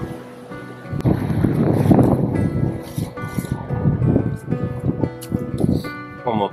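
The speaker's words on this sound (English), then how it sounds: "That's really bloody windy." Strong wind in the video game My Dream Smallholding roars and buffets the microphone in a steady low rumble while a person talks over it.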